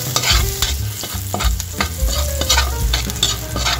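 Ginger and garlic frying in hot oil in a pan, a steady loud sizzle with scraping stir strokes throughout.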